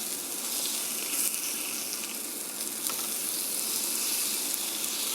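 Sardines fry in oil in a pan with a steady, dense hiss and crackle, close and continuous, with no voices.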